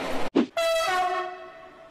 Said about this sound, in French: Spécial sifflet de train, c'est un numéro spécial